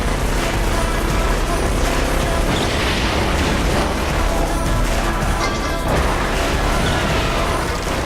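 Vehicles smashing into a target car in the racing game The Crew: dense, continuous crashing and booming impacts with metallic clatter, loud and close, with no break across the whole stretch.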